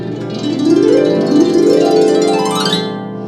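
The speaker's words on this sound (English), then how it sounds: "that is the sound of the lever harp" Plucked lever harp strings play rising glissando runs, the notes cascading upward and ringing together, close and clear.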